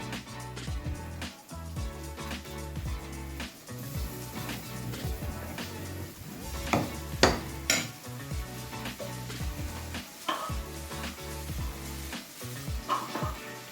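Tomato, onion and ginger gravy added to a pan and stirred, with continuous clinking and scraping of a utensil against cookware over a soft sizzle, and several sharper knocks throughout.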